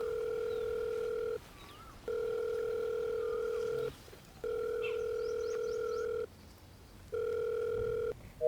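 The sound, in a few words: phone ringing, call unanswered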